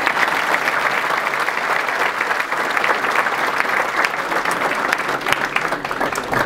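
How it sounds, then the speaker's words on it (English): An audience at a university baseball first pitch dinner gives loud, sustained applause indoors, many hands clapping densely and evenly for several seconds with no talk. "How about a round of applause for Kyle?"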